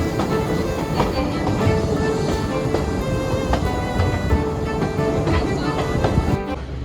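A train rumbles steadily across a bridge with rhythmic clacking of wheels over the rails, loud and continuous, fading slightly at the end, on the cold hill route to Badulla.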